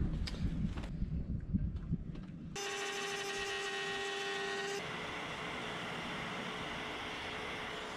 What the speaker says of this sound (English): At the moment you can see we're routing out this joint here all the way down there